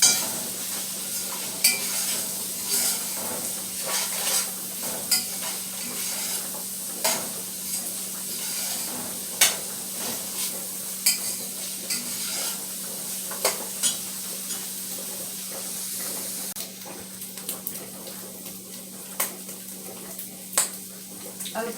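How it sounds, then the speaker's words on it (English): Ground beef and onions sautéing in a pan, a soft steady sizzle broken by repeated light scrapes and clicks of a spoon stirring, fairly quiet and close with a constant low hum underneath. "I'm going to saute them until the onions are tender and clear"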